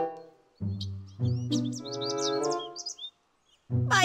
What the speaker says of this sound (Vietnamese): Ôi, chim bay mất rồi.